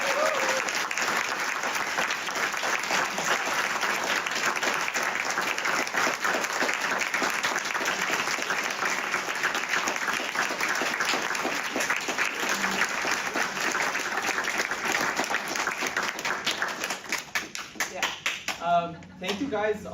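Sustained audience applause fills a teach-in room for about eighteen seconds, dense and steady, before it thins and a voice begins speaking at the end.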